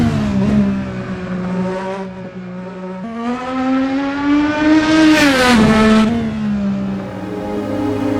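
An IndyCar in the racing game Assetto Corsa screams close and loud, its engine pitch climbing and dropping through gear changes with a sharp rev surge near the end.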